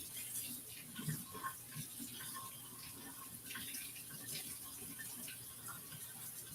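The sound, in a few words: running hot tap water over a jar lid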